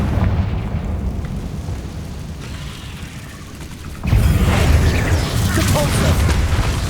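In the Hogwarts Legacy video game, the Confringo spell bursts into a loud, booming explosion that rumbles on under a continuous game soundscape, with talk partly over it.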